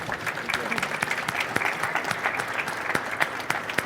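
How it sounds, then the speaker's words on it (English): Audience applause for a panel of young professionals at a produce industry session, steady dense clapping throughout with a few louder individual claps standing out, no talk over it. "Give a big round of applause for our panel here today."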